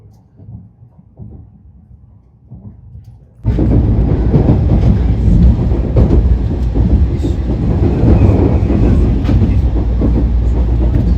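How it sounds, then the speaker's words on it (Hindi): A Japanese bullet train runs on the rails, heard from on board. After a few quiet seconds a loud, steady roar and rumble of the moving train starts suddenly and carries on without a break. "और अब हमारी ट्रेन चल दी।"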